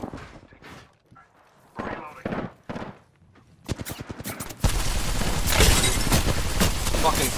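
Gunfire in Apex Legends starts after sparse talk and early shots, building into a dense continuous barrage of rapid automatic fire for the last few seconds, loud and close.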